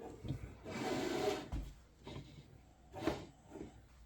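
Screws on a bookshelf being tightened with a hex key, giving short creaking, rubbing turns of metal on wood in uneven bursts, quiet and close.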